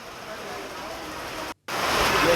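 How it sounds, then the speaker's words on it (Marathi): Unseasonal rain pours steadily in Maharashtra, a dense even hiss that cuts out for a split second and returns slightly louder. "आज अवकाळी पाऊस बरसला"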